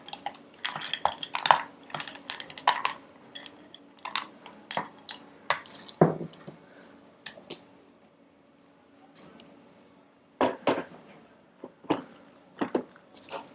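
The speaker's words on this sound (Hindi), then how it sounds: "और इसमें डालेंगे आइस क्यूब्स।" Ice cubes drop into a drink, giving a scattered series of sharp clinks and knocks, some clustered and some spaced apart, with a short quiet stretch in between.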